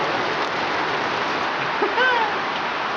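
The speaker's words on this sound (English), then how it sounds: "Rain." Steady rain pours outdoors as a dense, even hiss that fills the whole stretch, with a brief faint tonal sound near the end.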